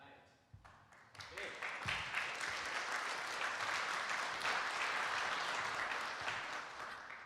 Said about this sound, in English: I hope you're not getting tired of clapping.